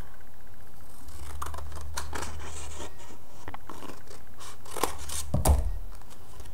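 Scissors snip through a stamped handmade greeting card in a few short, crisp cuts and scrapes, close by and quiet, with no talking.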